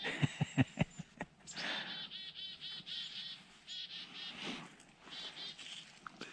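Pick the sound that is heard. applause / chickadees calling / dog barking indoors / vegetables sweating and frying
chickadees calling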